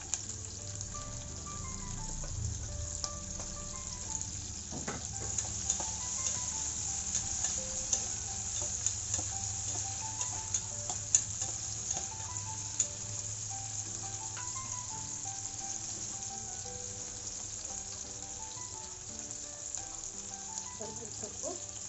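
Green chillies tossed into spluttering mustard seeds in hot oil, a sustained close sizzle and crackle with occasional stirring clanks throughout, prepared as part of festive Ugadi dishes.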